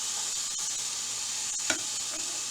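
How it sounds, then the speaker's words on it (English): Steady hiss of steak sizzling in a hot pan, close and even, with a small clink partway through. "That's the sizzle we're looking for."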